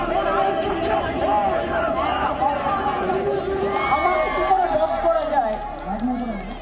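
A crowd of thousands at a politician's padyatra, a political march in West Bengal, fills the scene with a dense, steady roar of overlapping voices and shouts that holds loud from start to finish.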